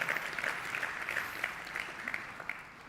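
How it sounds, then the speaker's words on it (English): An audience at a sports summit applauding, dense sustained clapping from a large crowd that fades slightly toward the end. "ladies and gentlemen, big round of applause for that"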